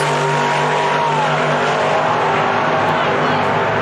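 A green short-wheelbase race car roars steadily at a racetrack event, its engine a loud sustained drone as it accelerates, with people talking faintly beneath it.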